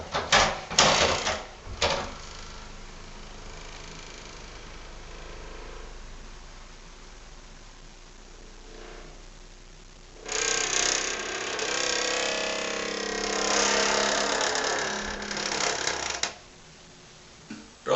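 A doorknob turns and a latch comes undone as fishing line tugs it, giving a few sharp clicks at the start and then a longer creaking, mechanical rattle, faint and close in a quiet room.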